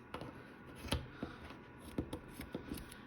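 Quiet, irregular snipping clicks of scissors trimming yarn edges on a woven tapestry, several crisp snips spaced unevenly over a few seconds.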